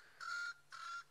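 A Swainson's francolin, a ground bird, calls in two harsh, raspy bursts with a brief gap between them, fairly distant over a quiet outdoor background.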